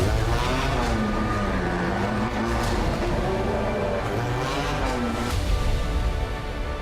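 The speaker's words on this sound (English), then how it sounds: "My favorite sound when the car is leaving the pits." DTM race car leaving the pits at the Norisring street circuit, a loud continuous engine roar with rising and falling revs and gear changes, close and steady.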